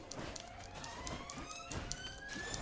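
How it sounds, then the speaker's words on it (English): A siren wails continuously in the distance, its pitch sweeping slowly upward, with faint tapping sounds nearby. "Excuse the loud siren that's going off outside my window just now."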